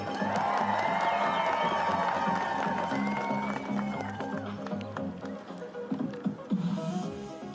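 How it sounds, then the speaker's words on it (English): A crowd at a cross-country ski race in Lake Placid cheers loudly for Jessie Diggins, with sustained shouting and whistles that slowly fade and are followed by scattered applause. "Huge cheer from the crowd for the American legend."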